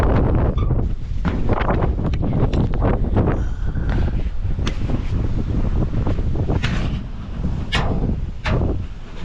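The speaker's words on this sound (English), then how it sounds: "Wow, you can hear that wind" Strong gusty wind from an approaching tropical storm buffets the microphone in a continuous loud roar, with surging gusts and no speech.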